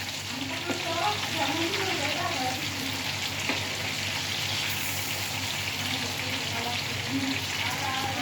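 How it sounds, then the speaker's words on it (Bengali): Hilsa fish fries in a home kitchen pan with a steady, close, crackling sizzle that runs continuously throughout, with occasional louder pops of spattering oil. "এই যে ইলিশ মাছ ফ্রাই।"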